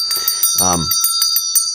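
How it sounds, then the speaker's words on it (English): A small bell is rung during a tarot card reading, giving a close, bright ring with a shimmering sustained tone and repeated light strikes, while a voice briefly speaks over it. "we got to ring this bell too"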